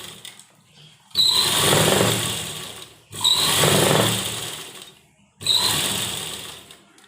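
Electric sewing machine stitching a fabric strip onto a baby frock, running in three loud sustained bursts of a couple of seconds each, separated by short pauses.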